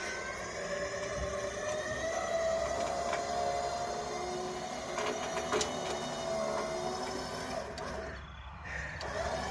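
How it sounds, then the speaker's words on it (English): An electric winch pulling a 1956 International 300 Utility tractor with loader and backhoe, a continuous close motor whine with steady harmonic drone and slight pitch wavering, briefly dipping near the end. "The electric winch makes it much easier than hand cranking it with a come along."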